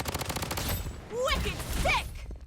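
Blood Strike gunfire rattles in bursts of rapid shots under a voice speaking in Thai. Tonal whooshing game effects sweep through the middle and near the end.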